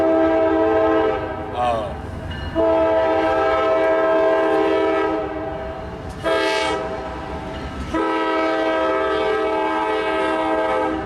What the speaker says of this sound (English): There's an actual train coming through.